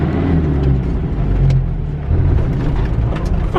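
A stuck van's engine rumbles and revs while being put in gear, a close, heavy low drone that surges, eases off briefly, then swells again.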